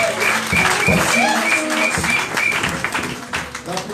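A church congregation breaks into sustained applause acclaiming Jesus during a worship service, a dense, steady clapping wash over a low musical or vocal drone.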